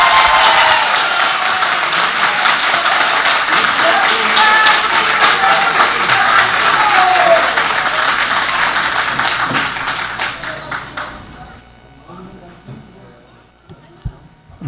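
An audience applauds and cheers loudly during a city council session, with dense, sustained clapping that fades out toward the end, leaving a quieter room.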